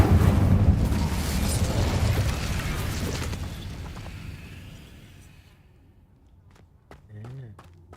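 A fiery Incendio spell from Hogwarts Legacy bursts with a loud, rumbling roar that fades out over several seconds, leaving near silence before a brief voice-like murmur near the end.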